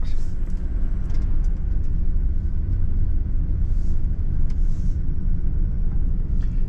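A car drives back out through a housing estate in America, its steady road rumble and engine drone heard from inside the cabin, continuous and fairly loud throughout.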